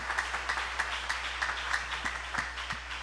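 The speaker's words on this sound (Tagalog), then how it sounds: "Pwede ba nating palakpakan ng mahal na Panginoon?" A congregation applauds at a church preaching service, a steady mass of clapping with a few sharp nearby claps standing out.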